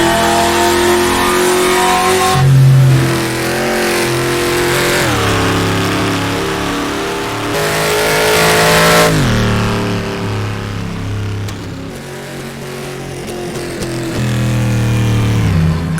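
Engine of a 1954 sports car in rFactor2 on the wet Dundrod road circuit, revving loudly and steadily through gear changes, dropping briefly between pulls with no talking.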